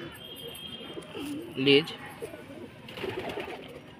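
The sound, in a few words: Madrasi pigeons cooing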